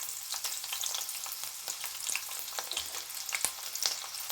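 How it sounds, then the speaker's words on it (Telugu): Sliced onions and green chilies fry in hot oil with a bright, crackling sizzle, steady and close, peppered with small pops and faint stirring taps. "ఆయిల్ హీట్ ఎక్కింది ఇప్పుడైతే ఆనియన్స్ వేసేద్దాం పచ్చిమిరపకాయలు"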